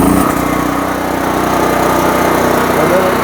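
A backup generator engine cranks up and settles into a steady, loud running drone close by, with a brief starting sound at the very beginning.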